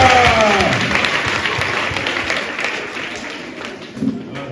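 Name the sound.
children's mass congregation applauding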